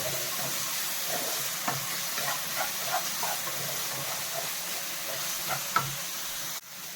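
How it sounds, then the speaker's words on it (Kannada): Potato masala filling frying in a pan for potato masala bonda gives a soft, steady sizzle with faint scattered pops and light stirring taps, fairly quiet with no voices. "ಈಗ ಸ್ವಲ್ಪ ಬೇಗ ಫ್ರೈ ಆಗಿದೆ ಅಂತ"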